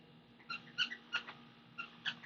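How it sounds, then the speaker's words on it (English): A dog chews on a squeaky toy, making six or so short, high, faint squeaks in an uneven rhythm, each a separate chirp against a quiet indoor background. "Sorry if there's any squeaking in the background because my dog. She's playing with her toy"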